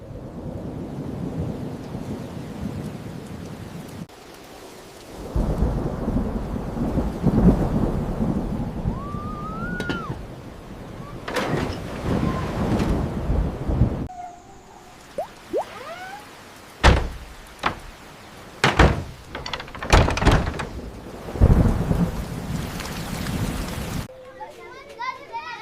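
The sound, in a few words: thunderstorm with heavy rain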